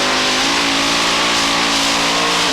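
A pulling tractor's engine roars loud and close as it sets off at a 1995 European tractor pulling event in Hörby, Sweden, a dense sustained blare with a rising tone.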